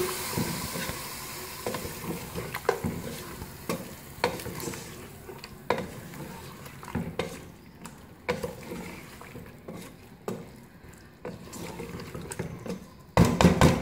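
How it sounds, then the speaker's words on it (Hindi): Chicken and cauliflower masala sizzles in a pan with a little water added, while a spoon scrapes and stirs in irregular bursts over a steady soft frying hiss, close by and moderately quiet. "इसको अच्छी तरह से मिक्स करेंगे।"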